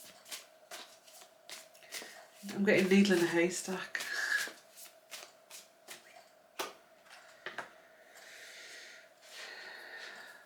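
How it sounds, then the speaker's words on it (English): Tarot cards being shuffled by hand: repeated crisp riffling bursts and soft card taps, close and fairly quiet, with a voice talking over part of it. "Let's keep shuffling."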